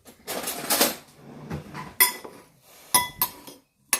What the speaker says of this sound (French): Et on va mélanger le tout.